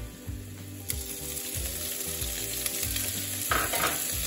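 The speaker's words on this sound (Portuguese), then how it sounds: "Estou aqui a experimentar para ver se está quentinho para fritar o bacon" Bacon sizzling in hot olive oil in a pan, a steady close crackle with low bubbling pulses and a few sharper pops, no voices over it.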